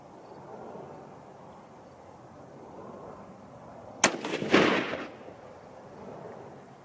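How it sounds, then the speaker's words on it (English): A single .243 Winchester rifle shot, fired from a 20- or 22-inch barrel with Sierra bullets on a range, cracks sharply and loudly, followed by a brief rolling echo that fades over about a second against a quiet outdoor background. "All right, third and final shot."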